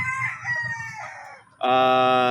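Imported Stuart Yellow-Legged Hatch chickens, one rooster crowing loudly and close after a run of softer clucking and fowl calls.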